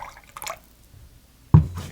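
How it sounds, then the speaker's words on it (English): A small splash of blue curaçao is poured into a tropical cocktail, a brief, soft liquid trickle followed by a sharper, louder splash near the end, with quiet background between. "Just add a little splash in here."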